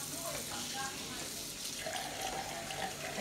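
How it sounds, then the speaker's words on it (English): Tap water runs steadily into a kitchen sink while a turkey is rinsed under it, a continuous splashing stream with a faint voice murmuring underneath. "I'm gonna rinse the turkey too, just to clean it off a little bit."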